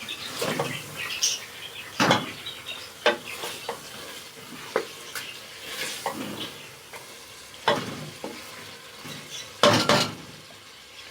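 Masala fries in a pan for a chicken and potato curry, its soft sizzle broken by repeated sharp scrapes and clanks of a spoon against the metal at an uneven rhythm.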